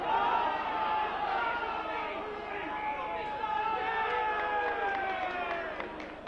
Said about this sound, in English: The crowd were jeering.